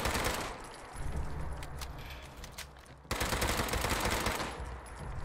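Automatic gunfire rattles in the video game Fallout 76, loud rapid bursts of shots that break off briefly and then resume in a dense stream.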